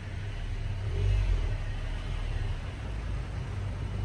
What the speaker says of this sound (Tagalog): It comes with dual stainless chambered exhaust with, of course, their patent HKS legal carbon tip